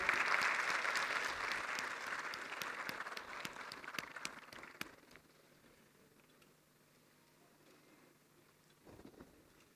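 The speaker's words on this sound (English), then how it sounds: "A round of applause, everyone." Conference audience applauding with dense, sustained clapping for about five seconds, then fading to a quiet room with a few scattered claps near the end.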